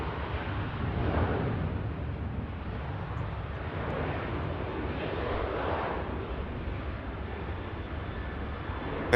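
TUI airliner departing Manchester Airport for Corfu, a steady broad engine roar that swells slightly and holds, fairly loud and continuous with no voices.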